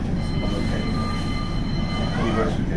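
A West Midlands Metro tram pulls away, giving a steady, close rail rumble with a low drone and faint high tonal whines, continuous and even in loudness throughout.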